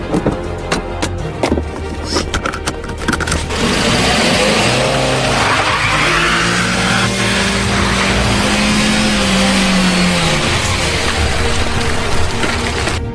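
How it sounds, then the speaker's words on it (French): A car on a deserted ghost-town street accelerates hard, its engine roaring loud and close, then its tires squeal in a long skid whose pitch rises and falls for several seconds, with no talk. "Pashka, accélère, dépêche-toi, Pashka."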